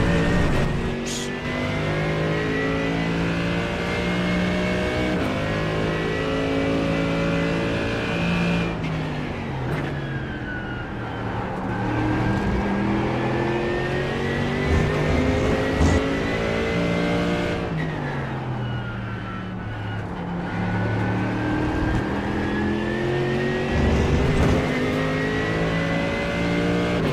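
A race car engine at full throttle in a racing simulator game, loud and continuous, its pitch climbing through gears and dropping on shifts and braking, with occasional tire noise and no talking.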